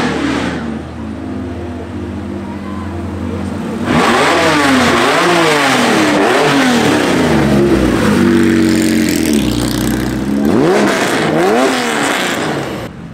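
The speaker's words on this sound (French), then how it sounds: "entre la sonorité de la première et ensuite la 964 Turbo S jaune qui est passée" A yellow Porsche 964 Turbo S sports car at a Porsche event revs and drives past close by, its engine note rising and falling in repeated swells over a steady background roar, loud throughout.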